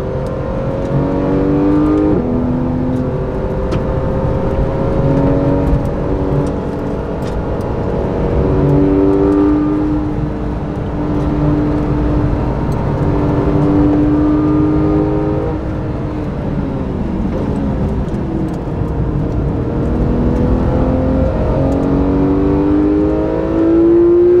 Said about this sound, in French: Et on va laisser passer là la Mera Cup et la KTM X-Bauer